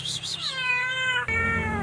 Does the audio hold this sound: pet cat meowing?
yes